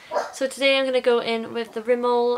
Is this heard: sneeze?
no